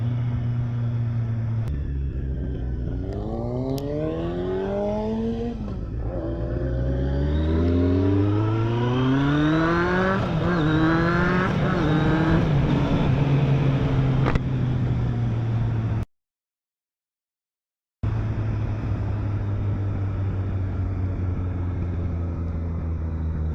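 A Kawasaki Z800 motorcycle engine revs up through several gears while riding, each pull rising in pitch before a shift, loud and close with a steady low rumble, briefly dropping out near the end.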